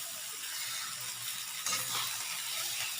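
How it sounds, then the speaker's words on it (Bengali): Vegetables frying in a pan on a home stove give a steady, fairly quiet crackling sizzle that grows a little busier partway through, with no talking. "এখন সবজিটা দিয়ে ভাজা ভাজা করে"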